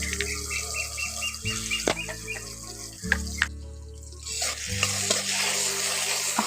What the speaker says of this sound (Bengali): টমেটোর কুচি আর কাঁচা লঙ্কা কুচি দিয়ে একটু ভেজে নিচ্ছি।